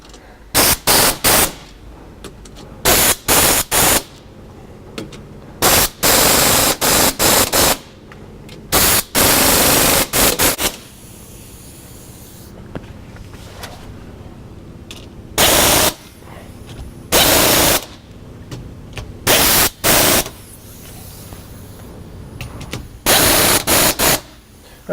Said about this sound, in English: I'm going to use an impact. It's a little bit quicker.